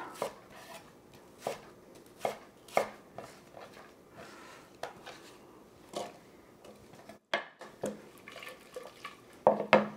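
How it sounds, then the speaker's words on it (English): A Granny Smith apple, cut around the core, is chopped into half-inch chunks. Close, irregular knife thunks land on the board, mixed with light clatter in a quiet kitchen. "I cut it in about 1/2-inch chunks and put it in the pot"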